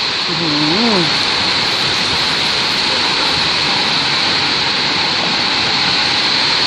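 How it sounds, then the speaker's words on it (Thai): Heavy storm rain pours down in a dense, steady roar, loud and close, mixed with the rush of strong wind, while a voice speaks briefly at the start. "ดูพายุนี่โอ้ดูฝนมันมาครับเนี่ย"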